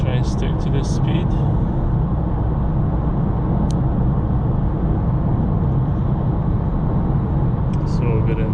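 A BMW F30 316d diesel saloon accelerating on the road in 4th gear, its steady engine drone and road roar filling the cabin loudly and continuously, with a few faint clicks.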